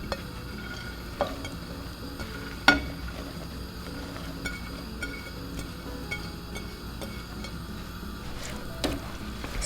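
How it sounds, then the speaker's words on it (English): Chopped vegetables and mushrooms stirred in a pot for Japanese mushroom rice, a soft continuous rustle and scrape with a few light clinks against the pot, close and steady with no voices. "Stir everything well."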